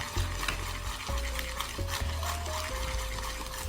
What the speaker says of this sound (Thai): คนอีกหนึ่งครั้งค่ะ ให้เขาเข้ากัน